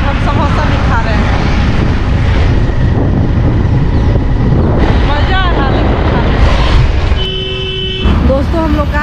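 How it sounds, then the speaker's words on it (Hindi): A motorbike ride along a road gives a loud, steady engine drone and wind rush, with a horn toot and passing traffic near the end. "देख सकते हैं हम लोग बाइक पर जा रहे हैं"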